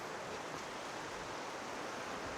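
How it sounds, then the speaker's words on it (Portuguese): A river near the Cachoeira do Desterro waterfall in Cunha, São Paulo, gives a steady broadband rush of flowing water, even and continuous, with no voices over it. "Esse aqui é o mesmo rio da outra cachoeira lá."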